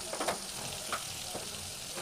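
Fish frying in a pan with oil, a quiet steady sizzle with a few soft crackles and pops, heard up close with no talking.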